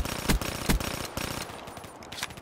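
An automatic gun fires in Call of Duty Black Ops 3, a rapid, close rattle of shots with two heavier punchy reports early on, then a continuing quieter spray of rounds.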